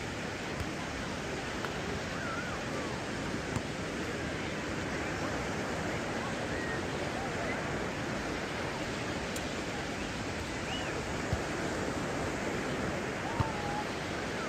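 Ocean waves wash onto a beach in Morocco in a steady, unbroken roar of surf that holds at an even level throughout, with no clear speech.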